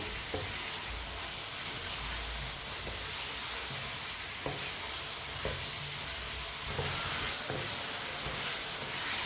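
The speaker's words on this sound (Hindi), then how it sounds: "गोभी को पहले ज़रूर भून लें 2-3 मिनट के लिए" Cauliflower florets frying over high heat give a steady, dense sizzle and hiss that runs the whole time, with occasional soft scrapes of a spoon stirring the pan and no voices.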